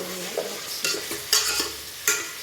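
A spoon stirs potatoes and other vegetables with tomato and onion in a hot pan for a dried-fish kuzhambu, giving several scraping strokes over a soft sizzle, close and without talk.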